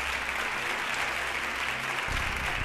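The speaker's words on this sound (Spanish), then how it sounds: "quiero dar un fuerte aplauso al maestro Alejandro Monroy, por supuesto, a los músicos de esta gran orquesta de Atubera" Concert audience applauding a conductor and orchestra, a dense, even wash of many hands clapping at close range, steady and unbroken, with a low hum underneath.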